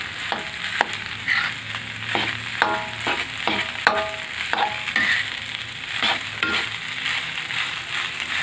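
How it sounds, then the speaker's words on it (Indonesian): Rice being stir-fried for nasi goreng seasoned with kencur: a spatula scrapes and tosses it in a hot pan in repeated, irregular strokes over a steady, close sizzle, with no talking. "Diaduk-aduk sambil sampai merata."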